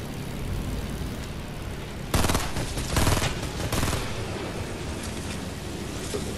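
Rapid bursts of gunfire in Fortnite Air Royale rattle out loud and close, dense volleys from about two to four seconds, then lighter shots over a steady engine-like drone.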